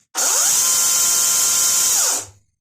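An EGO 16-inch battery chainsaw spins up with a sharp rising whine, holds a loud steady high-pitched chain scream for about two seconds, then is braked to a quick stop.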